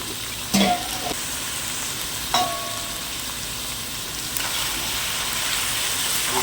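Chicken pieces, about a kilo of curry meat for chicken chukka, sizzling and frying in a pan, with a steady bright hiss and a few louder clatters of stirring scattered through.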